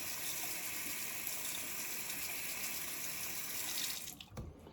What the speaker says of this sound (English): if there's too much stuff on your blade, rinse it